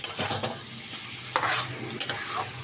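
Cabbage and mung dal stirred in a hot pan, with a quiet sizzle underneath and a few distinct scraping strokes of a spoon against the pan close by, and no talking.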